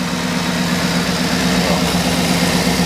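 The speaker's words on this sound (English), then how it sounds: "The engine sounds good in it." A 2010 GMC Yukon Denali XL with the 6.2-litre L94 V8 idles steadily, a loud, even low rumble held close to the engine with no talking.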